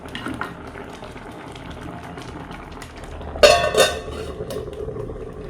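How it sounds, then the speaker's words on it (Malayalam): A pot of ripe mango curry bubbles at a low simmer, then a brief, louder stirring clatter cuts in partway through before settling back to a soft boil; nobody speaks. "അപ്പോൾ ഇതാ നമ്മളെ മാങ്ങ നല്ലപോലെ തിളച്ചിട്ടുണ്ട്. നമുക്ക് ചെറുതായിട്ടൊന്ന് ഇളക്കി കൊടുക്കാം."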